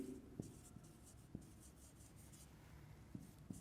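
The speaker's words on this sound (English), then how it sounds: "So at first we write down these" Pen or pencil writing during an English grammar lesson on narration, with a few soft scratchy strokes and taps against steady low room noise, no talking.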